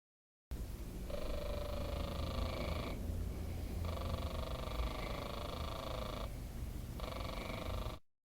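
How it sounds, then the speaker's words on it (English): A squeezed toy cat gives a soft, steady mechanical purring hum throughout, with a higher buzzing tone pulsing on and off in three long stretches. "purrs when you squeeze him"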